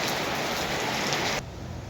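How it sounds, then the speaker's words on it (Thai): Steady rain pouring down in a broad, dense hiss, loud and close, then abruptly dropping to a quieter wash near the end, with no voices. "เดือน11แล้วก็ยังมีฝนอยู่เนาะพี่น้อง"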